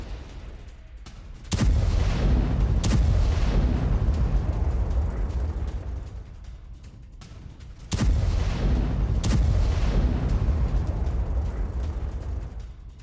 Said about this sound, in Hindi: पोक्रोवस्क में JDAM गाइडेड बम से हमला किया गया है।